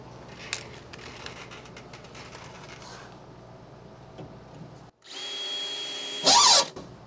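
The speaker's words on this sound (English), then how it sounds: "I'm going to drill them out because I don't like banging with that glass" Drilling out rivets on a bus window regulator with a power drill: scattered tool clatter, then a steady close drill whine that rises into a louder, harsher burst as the bit bites through near the end.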